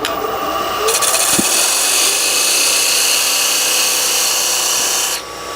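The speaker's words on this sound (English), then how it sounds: "I want to make the lip of my box. So I'm going to take my parting tool." A parting tool cuts into a wooden box spinning on a lathe to form the lip, making a steady, loud, close scraping hiss that holds for several seconds and then eases off near the end.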